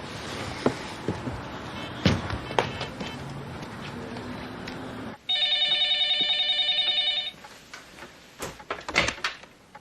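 A cell phone rings with a steady electronic trill of about two seconds, loud and close. Clattering household noises and knocks come before it and after it.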